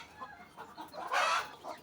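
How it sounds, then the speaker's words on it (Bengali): Broiler chickens kept on a farm cluck in short, close bursts, rising to one louder squawk midway before settling back. "এগুলো হচ্ছে আমাদের যে ব্রয়লার মুরগির ফার্মটি আছে ওইখান থেকে বিক্রি করার সময় আমরা কিছু মুরগি রেখে দেই।"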